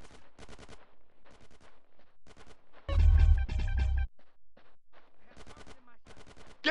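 Gunfire in GTA San Andreas, a short loud burst of rapid automatic shots in the middle, set between stretches of voices talking in a clipped, rhythmic pattern.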